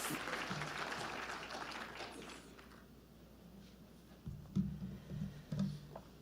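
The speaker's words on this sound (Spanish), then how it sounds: "Recibimos con un fuerte aplauso al señor doctor Luis Ernesto Vargas." An audience at a constitutional law seminar gives loud applause to welcome a speaker. The dense clapping fades out after a few seconds and is followed by a few close thumps and knocks.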